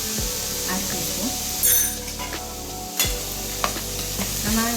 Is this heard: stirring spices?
yes